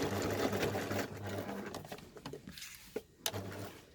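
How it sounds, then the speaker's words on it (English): Sewing machine stitching a backpack handle, a rapid mechanical whirring chatter that runs steadily, then breaks into shorter bursts with clicks and pauses near the end, fairly close and quiet. "definitely another forward and back stitch when you're finished"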